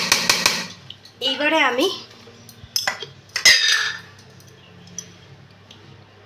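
A spoon stirs egg fried rice in a pan, with a few clinking scrapes against the metal and light rustling of grains, while a person speaks briefly over it.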